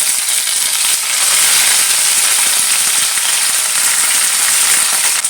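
Curry leaves and green chillies hit hot oil in a pan for a Kerala potato fry, giving a loud, continuous close sizzle and hiss with no voices.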